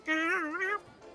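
A person imitates a cat, letting out a drawn-out, wavering meow that rises and falls for most of a second, close and clear, with no other sound around it.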